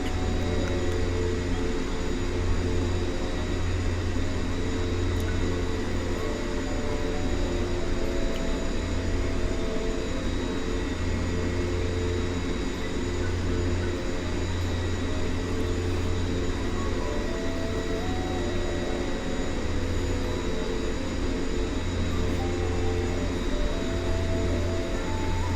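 Steady drone of aircraft engines throttled back to low RPM while taxiing in X-Plane 11, a continuous even hum with tonal layers running unbroken and alone throughout.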